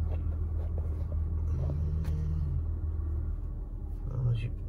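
A car engine rumbles low and steady while the vehicle reverses into a parking spot, with people talking over it and brief tonal squeaks now and then.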